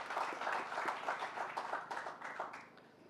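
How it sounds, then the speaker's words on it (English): A crowd applauds at a signing ceremony for two infrastructure cooperation agreements, with steady, moderately distant clapping that continues throughout and tails off slightly toward the end. "a round of applause."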